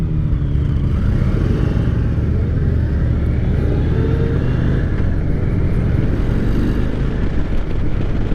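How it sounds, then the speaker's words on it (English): A 2023 Indian Sport Chief motorcycle accelerates, its engine giving a loud, steady, deep rumble that holds throughout with wind buffeting the microphone, and no one talking. "The bike sounds good."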